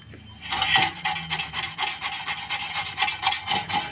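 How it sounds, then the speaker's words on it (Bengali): Palm fruit pulp is rubbed across a hand grater for a traditional palm kheer, giving a steady run of close, rasping scrapes in quick repeated strokes, fairly loud and continuous with no talk. "একটা ঘষুনির সাহায্যে ঘষে নিতে হবে"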